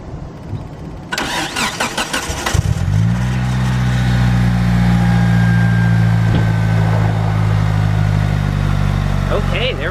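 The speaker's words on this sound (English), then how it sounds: "It started the car up without a battery." Car engine cranks briefly and catches after a jump start from a Lokithor 2-in-1 jump starter with no battery, then settles into a loud, steady idle close by, with voices faintly underneath.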